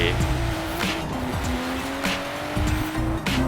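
A BMW M4 Coupe in the racing game Forza Horizon 4 roars as its engine revs shift, then its tires squeal under hard braking and it skids, loud and continuous, with a faint voice underneath.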